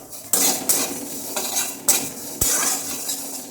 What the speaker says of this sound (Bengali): তো এখন আমি ডালটা ভেজে নেবো।